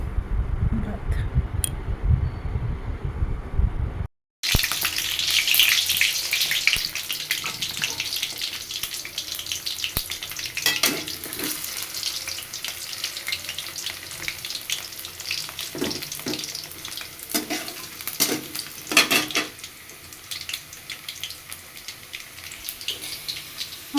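Potatoes, eggplant, bitter gourd and pumpkin frying together in a pan, a steady loud sizzle with some water-like splashing, after a brief quiet opening with a short gap near four seconds.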